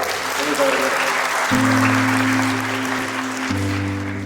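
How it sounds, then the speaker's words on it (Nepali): Guests at a Nepali wedding ceremony applaud in a loud, sustained burst of clapping, with a steady musical tone and a voice underneath. "हामी ठुलो ताली बजाइदिनेछौँ"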